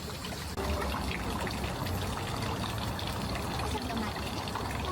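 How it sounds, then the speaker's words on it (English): Water pours steadily from a ladle at a shrine's hand-washing basin in Tokyo, a continuous splashing trickle against outdoor ambience with a faint voice nearby. "Let's sort of fill up one of the ladles there and use that to wash your hands."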